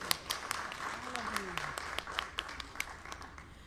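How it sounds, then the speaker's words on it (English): An audience gives a scattered round of clapping at a ribbon-cutting for a new health center, the claps moderate and somewhat distant, mixed with indistinct talk and murmuring from the crowd. "Can we give a hand clap of thanks to this amazing"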